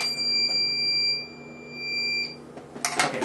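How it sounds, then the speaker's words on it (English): A Pyramid 5000+ auto-totaling time clock, set to its loudest level, sounds a single sustained electronic beep lasting just over two seconds, followed by a brief burst of handling noise. "so it was on the loudest, and that's the beep"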